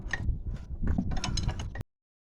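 A ratchet clicks rapidly at close range while undoing a suspension nut on a 2004 VW Touareg, a short burst of dense mechanical clicking and metal rattling that stops abruptly into silence.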